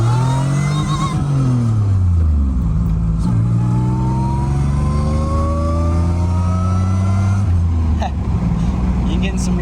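A 1986 Pontiac Fiero with a supercharged 3800 engine accelerates hard, its engine climbing in pitch, dropping at a shift and climbing again, heard from inside the car with people talking.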